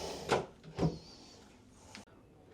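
A pull-out drawer in a cruise ship cabin on Icon of the Seas, heard as two soft sliding knocks close together, then a quieter bump and a light click, faint and close in a quiet room.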